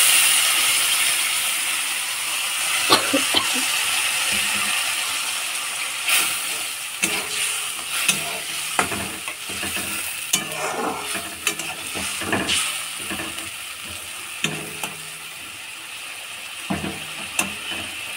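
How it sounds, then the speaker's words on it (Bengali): A fish curry with potatoes sizzles after a little water goes into the hot pan, a continuous hiss broken by sharp clicks and spoon scrapes, close and steady over eighteen seconds, no voices. "তো আমি এতে একটুখানি জল অ্যাড করে দিই।"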